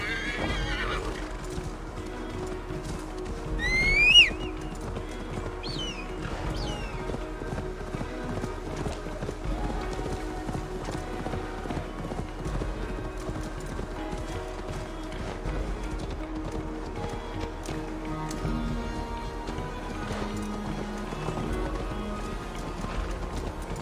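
A horse in the Assassin's Creed Valhalla video game gives a sharp whinny near the start, then hooves clip-clop steadily at a trot against a background music bed.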